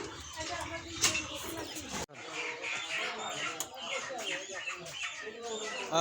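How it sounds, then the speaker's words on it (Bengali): Chickens being readied for a meal cluck through a busy, noisy outdoor scene, with people talking over them throughout. "মুরগি তার জন্য রেডি করা হচ্ছে"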